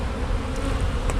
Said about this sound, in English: the majority of the bees are going to be in this box